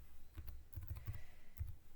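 Computer keyboard typing: a handful of separate key taps, close and fairly quiet, with a small cluster of quick strokes in the middle and a final firmer press near the end.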